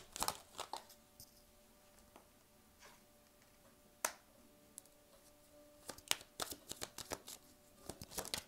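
Tarot cards are shuffled and snapped in quiet surroundings, with sharp, sparse flicks and slaps that cluster into a quicker burst near the end as a card is drawn.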